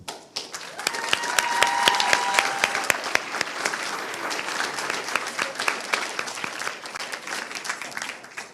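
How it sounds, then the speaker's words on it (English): Sustained applause from a crowd at a school board meeting, honoring a secondary student of the month; dense, steady clapping swells near the start and holds for several seconds, with a few murmured voices beneath. "Let's give him another round of applause."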